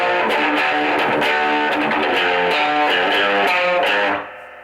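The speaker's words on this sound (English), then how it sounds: "So this is the distortion on its own." Heavily distorted electric guitar running through a distortion pedal by itself, ringing chords and picked notes sustained at steady loudness before cutting off and fading near the end.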